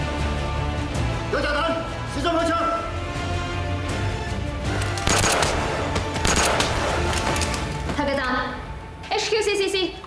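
Gunfire erupts during a shootout in a Hong Kong TVB police drama, with sharp bursts of shots amid dramatic sound and voices.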